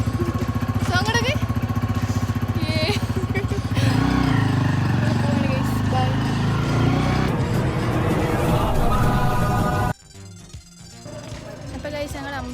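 A motorcycle carrying riders to a temple hums steadily at close range throughout the ride, mixed with talking and music, until the engine noise drops off abruptly near the end.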